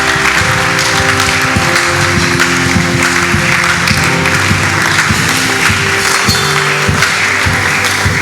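A church congregation applauding in praise of the Lord: steady, dense applause sustained throughout, with a low musical hum and faint voices underneath.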